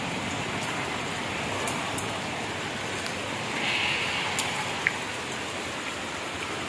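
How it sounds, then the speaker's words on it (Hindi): Rain falling in sunshine, a steady soft hiss of drops pattering on surfaces, fairly faint and even throughout with a few brighter drip ticks, no voices. "धूप के साथ बारिश"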